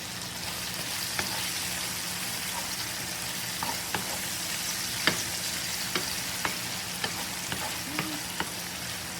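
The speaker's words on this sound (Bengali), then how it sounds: "এখানে টমেটো কিউব করে কাটা সেটাও দিয়ে দেবো।" Chana masala of chickpeas sizzles steadily in a hot pan as cubed tomato is added, with a continuous frying hiss and scattered sharp pops and stirring clicks throughout, no talk.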